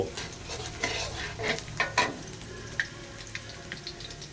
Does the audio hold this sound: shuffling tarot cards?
no